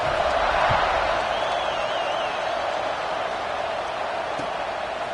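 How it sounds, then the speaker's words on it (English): Stadium crowd in a football video game, a steady dense roar of many voices buzzing after a score, continuous and fairly loud with faint cheering and whistles mixed in. "this crowd is buzzing after that last score"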